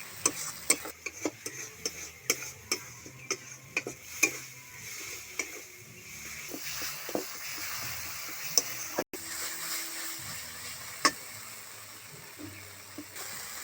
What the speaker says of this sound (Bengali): মশলাটা যতক্ষণ না তৈরি হয় এইভাবে নাড়তে থাকবো।